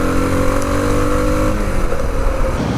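A modded Suzuki DR big-bore dual sport motorcycle accelerates hard, its engine note loud and close, rising steadily in pitch as the throttle opens, with wind rush over it.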